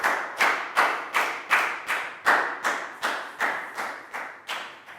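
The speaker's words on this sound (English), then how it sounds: "High five and a big round of applause for Prel," A primary school class clapping for a pupil, heard as about a dozen sharp, evenly spaced claps, each one with a short echoing tail in the classroom.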